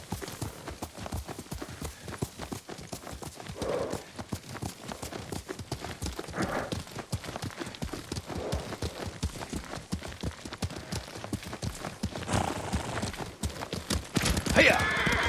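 A horse gallops in the video game Ghost of Tsushima, its hooves clip-clopping in a fast, steady, close rhythm throughout, with characters talking over the ride and a brief whinny near the end.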